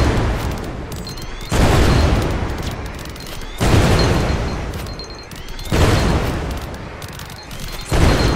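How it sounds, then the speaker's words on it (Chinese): Loud, heavy explosion bursts from the video game Greedland, booming in repeated waves about every two seconds with crackling debris between blasts. "我建议他把这边的爆炸声音调小一点啊，我自己又觉得太吵了"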